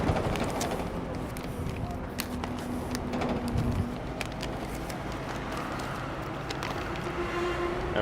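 Steady rushing wind buffeting the microphone outdoors aboard a double-decker tour bus in Genoa, with faint background rumble and occasional knocks throughout.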